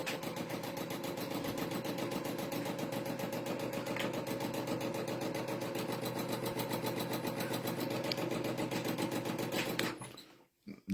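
A sewing machine stitches a freestyle landscape quilt, running in a steady, fast, continuous whir at close range for about ten seconds before stopping abruptly near the end.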